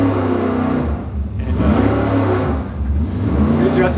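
A Dart 400 small block Chevy engine on a dyno roars loud and close, the revs rising and falling in repeated surging pulls with a harsh mechanical growl.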